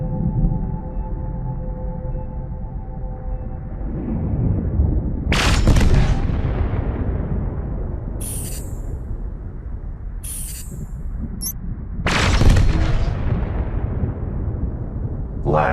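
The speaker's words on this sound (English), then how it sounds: "Now let's try laser weapons." Laser weapons fire from a spaceship in the open-space combat game Spacebourne, heard as a few sharp broadband bursts over a steady low engine rumble, with two heavier blasts standing out and short high zaps between them.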